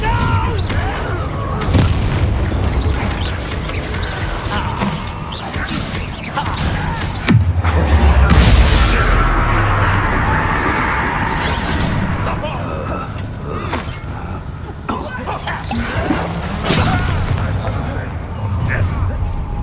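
Confringo blasting curse in the Hogwarts Legacy video game, a heavy booming explosion erupting around the middle amid dense game combat noise, music and voices throughout.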